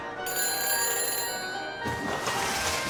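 A telephone rings after dialing in the Back to the Future video game, a sustained bright electronic ring that breaks off and gives way to a softer hiss.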